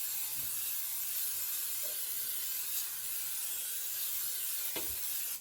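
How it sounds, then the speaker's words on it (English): A steady, close hiss of cooking spray aerosol sprayed into a cake pan for several seconds, ending with a brief knock near the end. "Spray your freaking pan."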